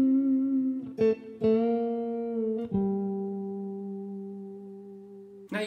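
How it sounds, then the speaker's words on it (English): Lead guitar lick with several bent notes, clean sustained tones sliding up in pitch between plucked attacks, played alone and fairly close with no other instruments. "Another thing that we can do is we can bend the notes."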